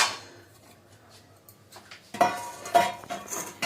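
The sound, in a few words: bowl and spoon clinking while scooping gram flour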